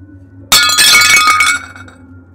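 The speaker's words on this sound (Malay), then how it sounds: "Tiba-tiba dia dengar bunyi pinggan jatuh." A plate drops in a kitchen and shatters with one sudden, loud, close crash. Bright, ringing shards rattle and clink for about a second before fading into quiet.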